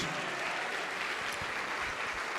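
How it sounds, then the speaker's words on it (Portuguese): A church congregation claps during a worship service, a faint, steady wash of applause heard from a distance with a few low thumps beneath it and no clear voices. "Vamos aplaudir mais ao nome de Jesus."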